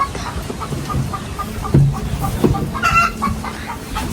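A hen clucks repeatedly nearby in short, uneven bursts, rising into a louder cackle toward the end, after laying an egg.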